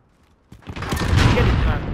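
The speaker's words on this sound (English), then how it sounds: "you got tipped in the face by an RPG" A sudden loud RPG blast in Call of Duty Modern Warfare bursts after a moment of near silence and leaves a roaring, sustained rumble.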